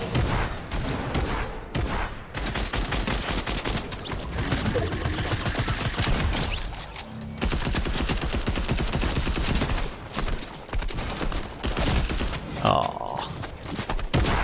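Rapid video game gunfire from Fortnite, dense bursts and volleys of shots that run almost nonstop, with a person talking over the shooting at times.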